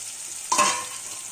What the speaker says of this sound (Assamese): এতিয়া দিম আদা নহৰু জলকীয়া